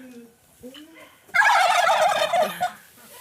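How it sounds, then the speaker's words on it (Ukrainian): Turkeys in a farmyard: one lets out a loud, rapid gobbling call after a few quieter bird chirps, close by. "Індики собі гуляють, щось там знаходять, скубуть, півник."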